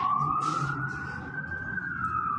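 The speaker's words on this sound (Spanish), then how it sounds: "Eso es una ambulancia, eso es los policías." A single wailing ambulance siren sweeps slowly up and down from outside, loud and steady, with no voices over it.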